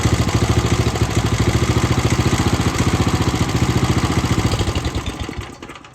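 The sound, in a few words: old lawn mower engine running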